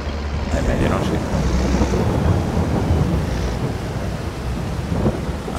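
Heavy rain in the video game Farming Simulator 22 hisses as a loud, continuous wash, with low rumbling thunder rolling beneath it throughout.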